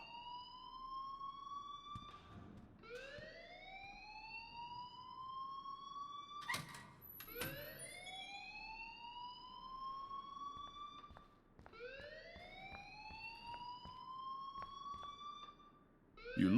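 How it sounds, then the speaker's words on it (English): A two-tone electronic alarm in Life Is Strange wails repeatedly in long rising sweeps, each tone gliding upward then cut off and restarting, loud and steady with no one speaking over it. "please turn off that alarm since that's your job"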